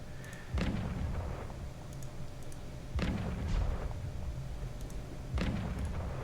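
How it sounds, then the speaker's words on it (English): Depth charges from a warship in Ships At War explode in three spaced, muffled booms with short clicking bursts. Each thud rises sharply and fades into a low rumble at a moderate distance. "Rapid depth charges so we can deal with submarines"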